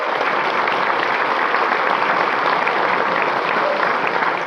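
An audience applauds a Ron Paul speech, a steady dense patter of many hands clapping throughout, loud and even with no talk over it.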